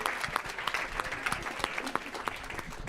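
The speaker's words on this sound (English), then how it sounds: "Let's give him a round of applause." Audience applause at a health institute presentation, a close, continuous patter of many hands clapping at even loudness with individual claps popping through.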